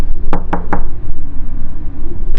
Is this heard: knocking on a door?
yes